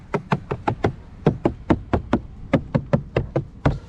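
Knuckles rap on the hard plastic door trim of a 2025 Fiat Fastback Abarth, about fifteen close, crisp knocks in quick irregular groups with no voices present.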